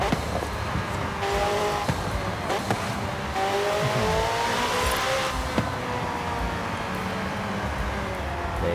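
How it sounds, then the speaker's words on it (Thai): A loud McLaren 12C engine with a modified raspy exhaust in the video game Forza Horizon 5 revs and shifts continuously, with tire squeal and a voice speaking over it. "เสียงเครื่องคันนี้ก็เราใจว่ะเปลี่ยนท่อมาแล้วคือ เสียงโคตรลั่น"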